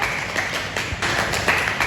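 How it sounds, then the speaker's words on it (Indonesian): Pupils in a classroom clap together at the end of a maths lesson, a quick run of sharp, fairly even hand claps close by, with no talking over it. "Tepuk tangan."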